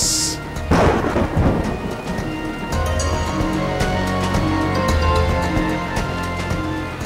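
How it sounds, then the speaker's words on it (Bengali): Heavy rain pours steadily while a deep rumble of thunder rolls through early on, then fades under the continuous downpour. "কি বৃষ্টি হচ্ছে, একদম ভিজে গেলাম।"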